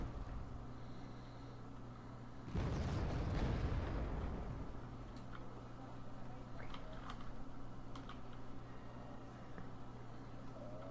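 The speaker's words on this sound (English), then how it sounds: "mortars might cause them some morale damage" Mortar fire in a real-time strategy game: a loud, booming burst of explosive impact erupting at once, then rumbling and fading over a few seconds above a steady hum of battle ambience, with fainter distant pops afterward.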